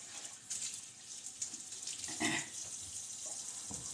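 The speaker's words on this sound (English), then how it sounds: "Let me wash my hands." Tap water runs steadily into a sink during handwashing in a home kitchen, a continuous close hiss with a few brief splashes and gurgles as the hands move under the stream.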